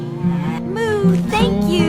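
A cartoon cow moos in a long, loud, wavering low call, rising and falling with a second bellow near the end, in a farm setting.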